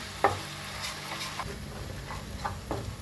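Onions and cumin seeds frying in a pan until brown for dhaba-style masala okra, a steady close sizzle with a few stirring scrapes and clicks and no talking.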